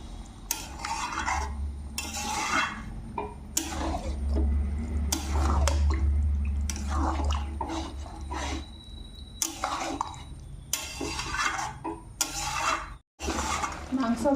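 Marinated mutton with its spice paste and a little water stirred and scraped in a pan: repeated rhythmic scraping strokes over a steady low sizzle, continuing through the clip.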